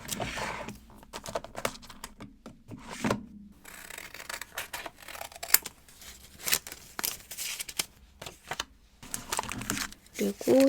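Plastic bags crinkle close up in short, irregular bursts of rustling while small desk stationery and sticker items are sorted into them, with some talking in between.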